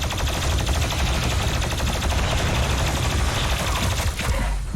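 Gunfire in the video game Doom Eternal, a dense, continuous stream of rapid automatic shots with heavy low booms, loud and unbroken throughout.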